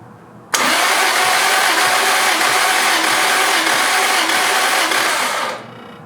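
A turbocharged Lexus IS300 engine cranks steadily for about five seconds during a wet compression test on cylinder number 5. The whirring is loud and even, starts abruptly and fades out at the end.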